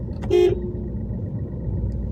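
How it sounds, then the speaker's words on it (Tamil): A single short car horn toot, close by, over a steady low engine rumble. "ஒரு தடவை ஹார்ன் அடிச்சிருங்க"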